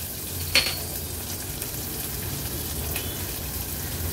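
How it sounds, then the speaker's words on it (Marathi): Half an onion frying in hot oil with a cumin, dried red chilli and ginger-garlic-chilli tempering, a steady close sizzle with a brief sharp crackle near the start, heard alone without speech. "आता आपण तेलावर कांदा शिजवून घेऊया."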